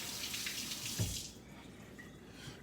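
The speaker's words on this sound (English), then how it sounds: "Let me rinse my hands off real quick." A kitchen tap runs steadily as hands are rinsed under it at the sink while making protein pancakes from oats, cottage cheese and eggs. The rushing flow is loud and close for over a second, then the water is shut off.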